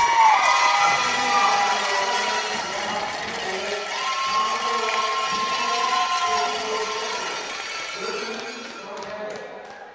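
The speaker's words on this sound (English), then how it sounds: "I couldn't hear it over the cheering. The cowbells in front of us making a lot of noise" A hockey arena crowd roars and cheers with cowbells clanging nearby, a dense sustained din with shouting voices layered on top, easing slightly toward the end.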